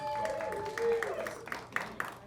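A comedy show audience cheers and whoops with scattered clapping, voices rising in drawn-out shouts over a moderate crowd murmur.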